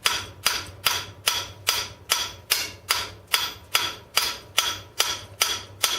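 A hammer strikes a rivet with a rail used as the backing, about thirteen sharp metallic blows at a steady, unhurried pace, each close and loud with a short ringing decay.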